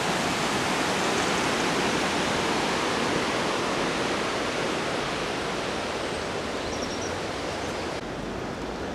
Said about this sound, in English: Pretty water feature, creates a nice lake effect on the river.